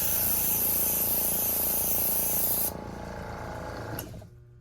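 Paint spray gun hissing out a mist coat in a test pattern during a chip repair blend, a loud steady spray that cuts off partway, leaving a quieter hum and a brief burst before fading.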